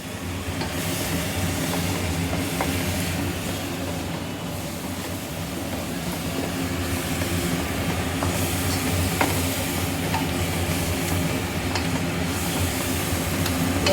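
Ingredients for a chicken curry fry in oil in a pan with a continuous, even sizzle and occasional faint stirring clicks, holding steady throughout.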